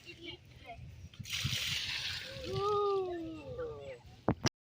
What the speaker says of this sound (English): You pour the water down there.